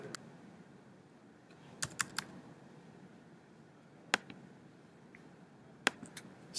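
Keys clatter on a computer keyboard while a book title is entered into a citation search, coming in a few short bursts of close taps separated by quiet pauses.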